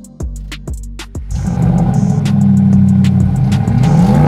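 An Urban-modified Audi RSQ8 with an aftermarket exhaust fires up with a few sharp cranking pulses, then settles into a loud, deep, steady idle with a rising rev near the end, heard up close.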